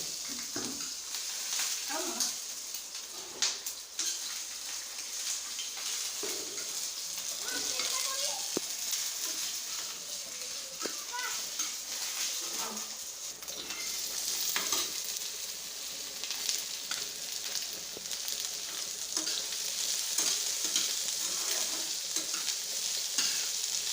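Black cumin, green chili and garlic fry in hot oil with a steady sizzle, while a spatula scrapes and taps the pan and voices talk quietly over it.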